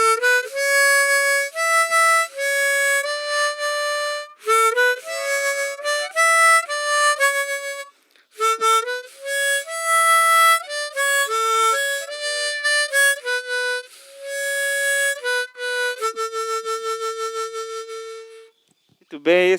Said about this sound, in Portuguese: esse é o som da gaita diatônica